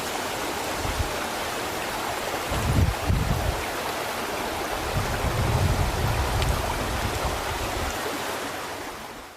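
A river stream flowing below a trail in Nunuk Eco Park, Subang, West Java, heard as a continuous rushing wash of water with some wind buffeting on the microphone and a few louder low surges.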